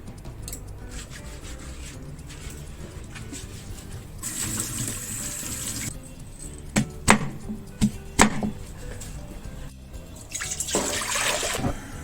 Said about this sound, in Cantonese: 蘋果因係連皮煲，要用鹽散乾淨佢